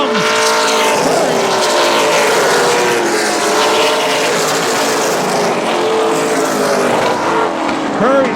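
Race cars roar around Central Texas Speedway at a dirt-track race, with loud, overlapping engine whines rising and falling as the cars pass and accelerate, continuous and close.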